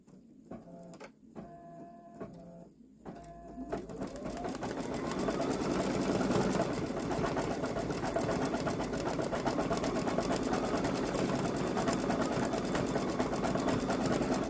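A Babylock Solaris Vision embroidery machine stitches a Ninjago design onto a boy's long-sleeve garment, starting with a few short stop-start bursts, then settling into a steady, loud, fast mechanical whirring and rapid needle chatter throughout, with no talk.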